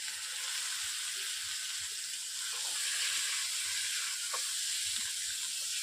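Boiled eggs and potatoes sizzle steadily in frying spice masala and oil over a village-style cooking fire, a loud, continuous close-up hiss with faint crackles.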